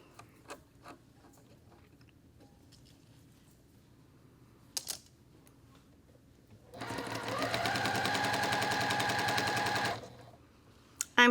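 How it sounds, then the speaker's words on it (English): A sewing machine with a quarter-inch foot stitches a seam on a tiny Ohio Star quilt block, sounding as one loud, fast, even run of needle clatter for about three seconds after a few quiet handling clicks. "So I'm going to sew across here, I'm going to use a 1/4 inch foot"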